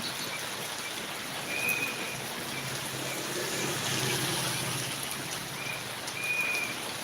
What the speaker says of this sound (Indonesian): Kencang lagi hujan.